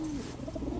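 Giribaz high-flyer pigeons coo in a brief low murmur, close and fairly quiet over steady background noise.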